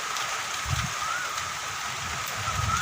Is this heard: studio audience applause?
no